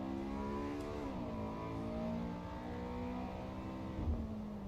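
A car's VTEC engine in the Assetto Corsa EVO racing game revs up in repeated rising sweeps. It is loud and continuous, with no talk over it.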